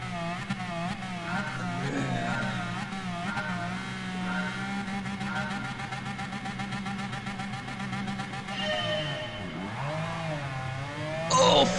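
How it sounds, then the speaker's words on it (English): A race car engine revs in GT Sport, with a loud, sustained engine tone whose pitch rises and falls throughout and a brief louder burst at the very end. "Listen to the revs."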